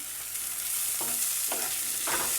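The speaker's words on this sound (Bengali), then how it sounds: "এবার সবগুলো ভালো করে মিশিয়ে সামান্য একটু নুন দিয়ে নেড়ে নিলাম।" Leftover rice and boiled peas are stirred and fried in a wok under a constant sizzle, with three distinct scraping strokes of a spatula coming at a steady pace close by.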